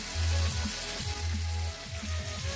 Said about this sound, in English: And we're going to start adding our butter.